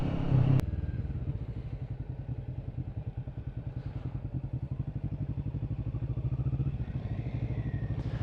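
A Kawasaki Vulcan S motorcycle engine thumps in a steady, rhythmic low idle as the bike rolls slowly through a U-turn, close by, with no talking.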